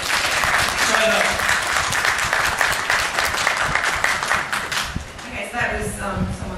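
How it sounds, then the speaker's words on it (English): An audience at a mosque open day gives a sustained round of applause, thick and continuous throughout, with some voices heard faintly near the end. "Can I have a round of applause, please?"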